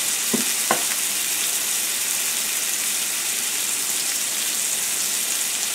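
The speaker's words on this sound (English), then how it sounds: "Basically just want to get a good sear" A thick ribeye steak sears in a hot pan with a loud, steady, close sizzle that runs throughout, and a couple of brief clicks sound near the start.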